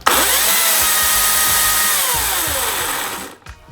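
A battery chainsaw, Stihl MSA 60 or Husqvarna 225i, whirs steadily at high speed for a few seconds, then winds down and stops, leaving a couple of faint clicks.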